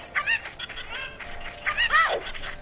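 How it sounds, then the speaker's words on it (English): Cucco chickens from The Legend of Zelda: Ocarina of Time cluck in a few loud, squawking bursts, the last a longer falling squawk, with no voices over them. "Come here, damn chicken."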